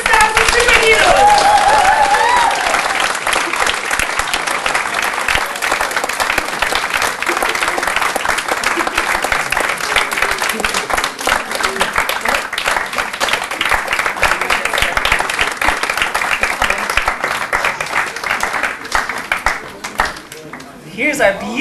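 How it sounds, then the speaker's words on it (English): A church congregation applauding at a Christmas service as children come on stage, a long, steady roar of clapping that holds strong and only eases slightly near the end. "I want you to give them the biggest round of applause"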